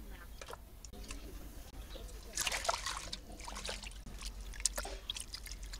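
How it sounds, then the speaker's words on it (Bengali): Flowers and leaves washed by hand in water, with soft close splashing, dripping and trickling in uneven bursts that peak midway, and a voice talking quietly alongside. "এই যে আমি পাতা, এই ফুলগুলো এইভাবে মেলে মেলে ধুয়ে নিতেছি"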